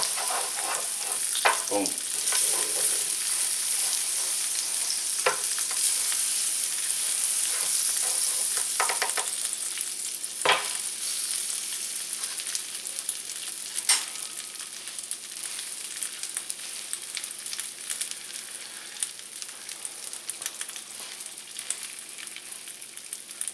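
Eggo waffles fry on a hot griddle in butter spread, a steady bright sizzle running throughout with occasional sharp clicks and scrapes as they are moved around; someone speaks once briefly.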